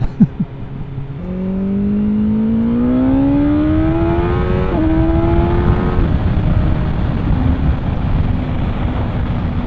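A 2021 BMW S1000R motorcycle engine holding 6,000 RPM in fifth gear, a loud, steady droning hum that climbs gradually in pitch and settles, with wind rush mixed in and no talk.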